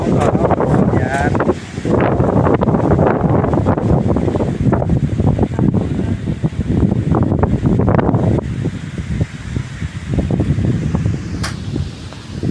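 Strong gusting wind roars and buffets the microphone steadily outdoors in Malaysia on a dark afternoon, a dense, continuous rumble with a brief lull near the start.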